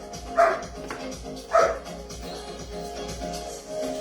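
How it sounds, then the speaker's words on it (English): A vocal dog playing Bitey Face with another dog gives two sharp barks about a second apart, with soft growling and shuffling between them. "He's a very vocal dog."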